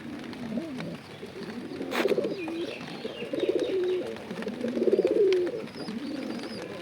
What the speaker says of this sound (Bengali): ওই যে ওই পাশে চলে গেছে পায়রা তো আসলে ফোনের কারণে ভয়ে কিন্তু ওইদিকে চলে গিয়েছে